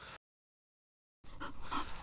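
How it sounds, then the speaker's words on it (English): A dog pants on a cricket field in quick, breathy rhythmic puffs, close and moderately loud, following a short burst of noise and a second of dead silence. "Is that a dog on the field?"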